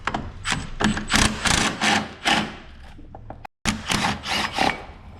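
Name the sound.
cordless battery ratchet loosening car battery bracket bolt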